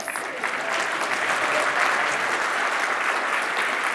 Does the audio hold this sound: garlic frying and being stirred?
no